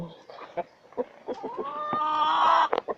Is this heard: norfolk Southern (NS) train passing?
no